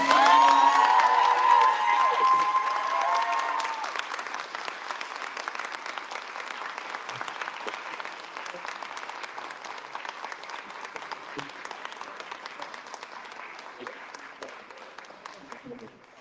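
A convention crowd at a pop culture expo panel in Huntsville bursts into applause and cheering after a voice fades out, loud at first, then settling into sustained clapping that slowly thins toward the end.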